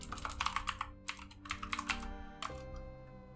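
Typing on a computer keyboard in quick, close clattering bursts of keystrokes, a short pause, then a final flurry and a key press before quiet, with no talking.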